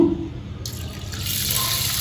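Water runs steadily from a tap, splashing into a bowl of rice for idli batter for a couple of seconds, with no talking.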